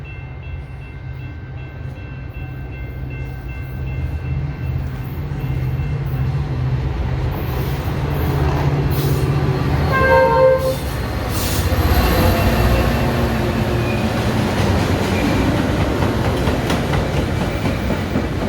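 A passenger train passing through Westmont, Illinois, its rumble swelling as it nears, with rhythmic wheel clatter and a thin squeal of steel wheels, loud and continuous with no voices.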